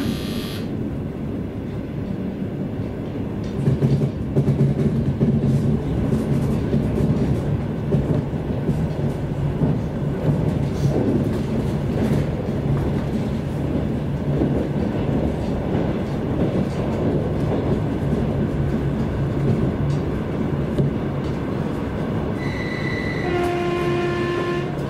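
An Aeroexpress train runs between Vladivostok and Knevichi airport, with a steady loud rumble and rattle of the carriages, and a horn-like tone near the end.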